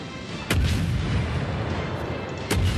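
Naval artillery guns in the World of Warships video game fire two heavy booms about two seconds apart, each followed by a deep rolling rumble over constant loud battle noise.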